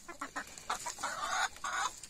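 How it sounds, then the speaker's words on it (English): Chickens cluck in short, repeated bursts close by on a farm, with a rooster among the fowl. Several calls overlap in an uneven rhythm, and no one speaks. "I'm afraid of that rooster."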